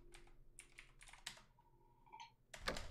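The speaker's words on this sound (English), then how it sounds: "Type in melon." Keystrokes on a computer keyboard in the game Facade, a few quiet clusters of clicks at close range with a faint tone and soft background hum, no talk.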